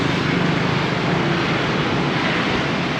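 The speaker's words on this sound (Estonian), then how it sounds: "Mega liiklus on siin ikka." Heavy street traffic in Vietnam, a city packed with mopeds and motorcycles, forms a loud, steady wash of engine roar and road noise with no breaks.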